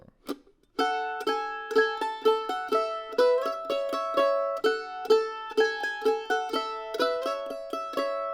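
A mandolin plays the B section of "Pretty Red Lips" with open drone strings ringing under the melody, strummed and picked in a steady rhythm, close and full, without any voice.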